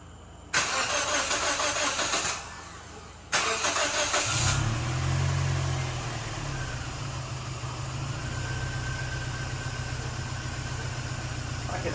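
A Scion xB engine cranks over and catches, then settles into a steady, fairly low idle that carries on alone at close range.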